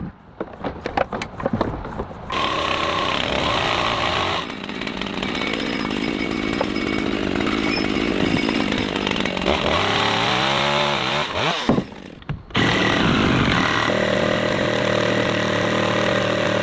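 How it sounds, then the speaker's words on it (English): Chainsaw trimming the overhanging ends of wooden roof planks on a house, engine starting with sputters and then roaring steadily under cutting load, briefly dropping out before revving back up loud and close. "The overhanging portions of the roof planks are now being trimmed off to give the house a neat and beautiful appearance."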